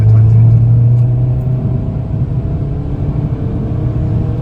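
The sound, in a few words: Peugeot 208 GTI car engine accelerating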